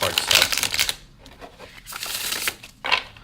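Victorian Romantic playing cards being shuffled close up, two bursts of riffling crackle separated by quieter handling, followed by a short third riffle.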